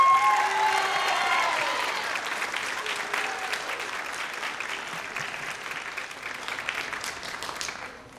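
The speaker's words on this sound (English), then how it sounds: "So if we can give him a big round of applause for that" A high school band concert audience applauds in a full, sustained burst of clapping that starts loud and slowly tapers away, with faint murmured voices mixed in.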